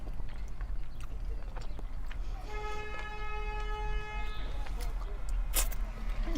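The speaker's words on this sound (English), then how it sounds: "You hear all the honking?" Several car horns honk on a busy New York street, one long sustained tonal blast standing out for about two seconds amid steady traffic rumble and other short toots, with people talking nearby.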